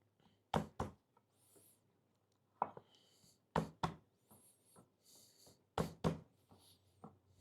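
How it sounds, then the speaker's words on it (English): Garlic cloves, already peeled, are smashed down on a board with a knife while making beef ragu, giving several sharp, close knocks in pairs and clusters with quiet gaps between. "Got all of our garlic out of our skins, and I'm just gonna smash them down a bit"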